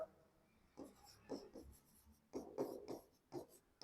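A word is written on a board in a classroom lesson, heard as several short bursts of close, quiet scratching strokes separated by brief pauses, with no talk.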